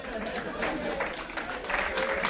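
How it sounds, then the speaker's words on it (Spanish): Brief, fairly quiet applause from a university audience at an information technology week talk, a short patch of scattered clapping with some murmuring voices mixed in. "un aplauso, la verdad."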